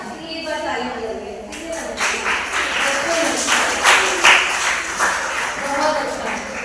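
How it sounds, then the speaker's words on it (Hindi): Students at a school traffic awareness program clap together, the applause swelling after a second or two and continuing in uneven bursts while a voice keeps talking over it. "इसलिए एक बार ताली बजाइए"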